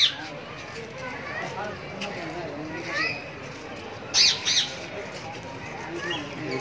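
Parrots calling at Lahore zoo: two short, sharp squawks close together, rising above a steady murmur of visitors and footsteps.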